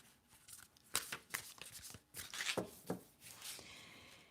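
Tarot cards are shuffled by hand in a series of quick papery riffles and slaps, sounding close and soft, with a few louder bursts of card noise and no talking.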